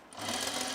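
Under a second of a sewing machine stitching a sunblock top, a fast, steady whirring burst starting abruptly and staying close and even.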